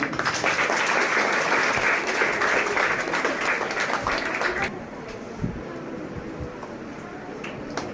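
Audience applause at an award ceremony honoring meritorious students, a dense burst of clapping that fades after a few seconds into a quieter room with scattered claps and faint background voices.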